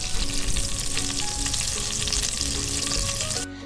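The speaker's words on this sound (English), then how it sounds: "add some garlic butter to the pan and stir it around with a spatula to coat the pan" Garlic butter sizzles steadily in a pan while a spatula stirs and scrapes it, a close, continuous frying crackle with soft scraping strokes, cutting off abruptly near the end.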